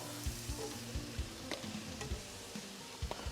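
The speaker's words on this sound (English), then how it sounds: "So now we have the chicken here, we have the beef here, everything's cooking." Chicken and beef pieces fry together in a pan, a steady close sizzle broken by repeated light stirring clicks and scrapes, with no talk.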